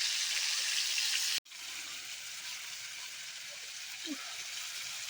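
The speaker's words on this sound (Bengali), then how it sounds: "এখন হচ্ছে এই যে মাছ ভাজা হচ্ছে একদিকে, ওই কচি শাকে দেবো বলে" Fish fries in a pan on a home kitchen stove, a steady, soft hiss of sizzling oil with a short gap near the start and a few faint pops.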